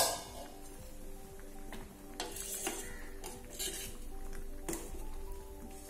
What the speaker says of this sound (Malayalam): നമുക്കൊന്ന് തുറന്ന് ഇളക്കി കൊടുക്കാം.